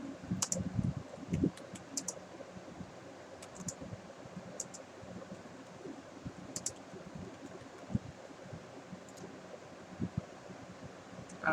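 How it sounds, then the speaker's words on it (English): Quiet, steady typing on a computer keyboard while entering text into a chat box, with irregular soft key clicks and occasional sharper taps over faint background hiss. "I have typed in it on the chat box."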